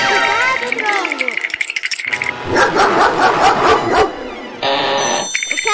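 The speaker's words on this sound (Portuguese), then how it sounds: "O cachorro tá solto, corre!" A cartoon dog barks in a loose, noisy burst in the middle, with animated character voices before it and a bright electronic tone toward the end.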